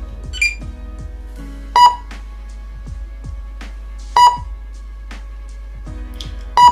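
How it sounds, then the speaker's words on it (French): Dimmer controller emitting short electronic beeps, several separate bleeps spaced a couple of seconds apart, fairly loud and close, alongside faint clicking and tonal chirps. "le variateur bip"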